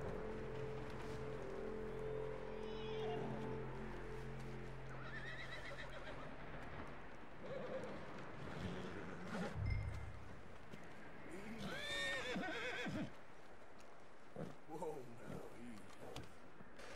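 A horse in Red Dead Redemption 2 whinnies and snorts amid clip-clopping hooves, with a steady engine-like drone early on and a person talking at times.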